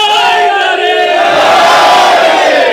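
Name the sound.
crowd chanting slogans together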